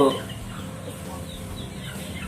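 Chicken of a game breed kept for breeding, a short clucking call at the start followed by a low farmyard murmur and soft rustling.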